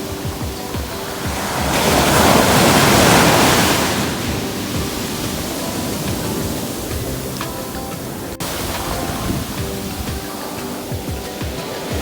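Ocean surf rolling onto a beach in Jamaica, a steady wash of broadband noise that swells loudly for a couple of seconds before settling into a continuous, nearer churn of water, with no voices.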